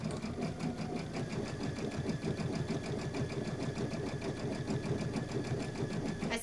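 Sewing machine running steadily through chain-pieced quilt fabric, a close, continuous rapid stitching rattle with no pauses or talk, part of a Kimberbell sit-and-sew session.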